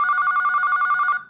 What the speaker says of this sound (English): Guests get a phone call when Alina is at the door.